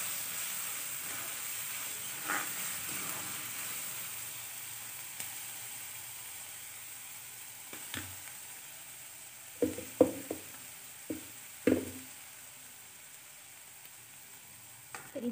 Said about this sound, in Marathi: कांदा चांगला लाटसर परतून घ्यायचा आहे।